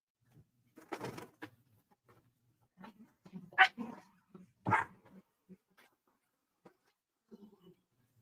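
Several dogs barking in short, scattered bursts, a few sharp loud barks among quieter yips and whimpers, with silence between.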